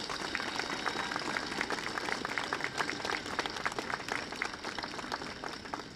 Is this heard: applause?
yes